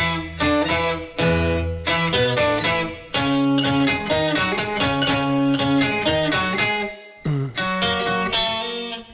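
Guitar plays verse four of a song, with rhythmic chords in a steady, driving pattern and brief breaks between phrases. No voice is heard.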